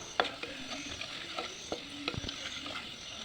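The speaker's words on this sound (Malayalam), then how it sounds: "പൊടികളുടെ പച്ചപ്പ് മാറാനായി നന്നായിട്ടൊന്ന് ചേർത്തിളക്കി കൊടുക്കാം" Spice powders for a passion fruit pickle being stirred in a hot pan, soft sizzling with faint scraping strokes of the spoon at an uneven rhythm, quiet and close.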